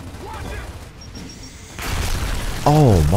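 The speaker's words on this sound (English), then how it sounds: "Oh my, that was a good nade." A grenade goes off in the shooter game Gears of War as a sudden, broad rumbling blast that swells and keeps booming, with scattered game sounds before it and a voice calling out over the tail.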